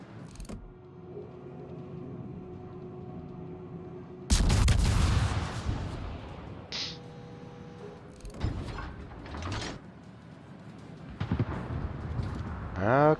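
Naval video game ship guns fire shells at an enemy destroyer, the Adroit: a sudden heavy blast bursts out of a low rumbling background, followed by several sharper, scattered reports and crackles over the next seconds.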